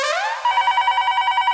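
A telephone rings in a TV sitcom household. A sweeping electronic tone gives way to a steady, rapidly pulsing ring, loud and close, with no talk.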